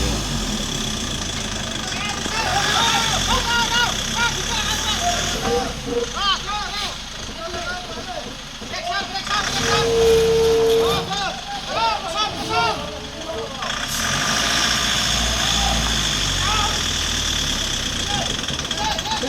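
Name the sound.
lorry engine running on Haflong road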